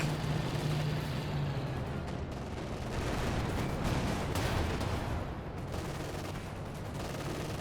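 Anti-tank PIAT shots firing in the WWII strategy game Company of Heroes 2, sounding as a continuous dense roar of battle gunfire and blasts that stays loud throughout.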